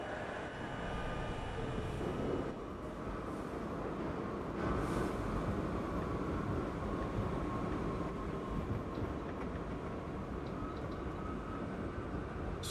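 A train running on the Sando route in a rail video game, a steady loud rumble and roar of wheels on track that continues throughout, with a few faint clanks over the constant drone.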